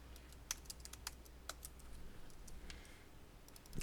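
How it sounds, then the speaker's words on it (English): Quiet typing on a computer keyboard, a run of light, irregular key clicks with a few sharper taps, close and soft, with no voices. "you're going to type in the answer here"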